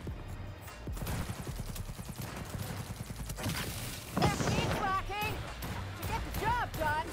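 Rapid gunfire rattles in quick bursts in Cyberpunk 2077 Phantom Liberty, a fast string of sharp shots, followed by voices talking over the game's action.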